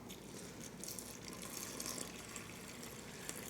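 Water at 85 degrees Fahrenheit streams from a container into bread dough in a bowl on a kitchen scale, a soft continuous pour with faint trickling and a few small knocks.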